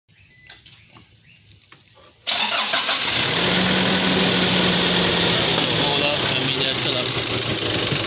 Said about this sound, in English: I gotta start the vehicle.